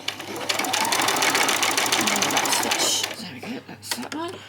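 A sewing machine runs a back stitch on a fabric headband, a rapid, steady mechanical whir close up for about three seconds before stopping, after which a voice speaks over the quiet.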